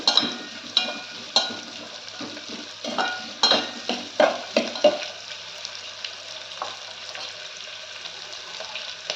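Masala vadas fry over a high flame in a pan, a steady sizzle broken by frequent scraping stirs and clinks of a spoon, loud and close, then easing off into a softer sizzle.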